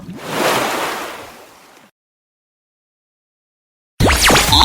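A loud, close wash of water surges and fades away into silence. After the silence a different busy burst of sound begins.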